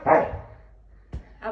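A dog barks sharply while playing and jumping, one loud close bark followed by two shorter yips after a pause.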